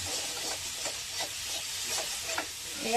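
Potato, pea and tomato curry with ginger, garlic, onion and spices simmering in a pan, a soft airy sizzle with faint scrapes of stirring, quiet and close, no voices.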